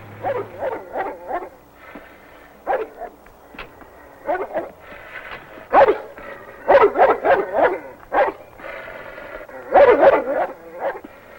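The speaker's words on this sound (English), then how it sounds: "He brought a dog." A dog barks repeatedly near a Jeep in a 1978 film scene, sharp barks coming in uneven clusters with short pauses, fairly loud and close, with no talk over them.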